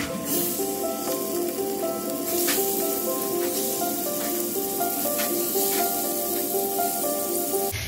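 Stingray fish sizzling and frying in a pan, a steady continuous hiss with occasional sputters and pops, close and fairly loud, with no talking.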